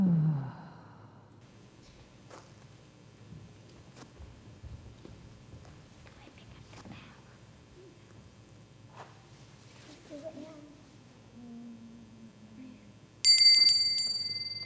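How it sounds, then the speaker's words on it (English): A bell rings out loud and bright near the end, cutting in after a long stretch of quiet, faint shuffling in a children's church service. "But then there was another ringing of the bell."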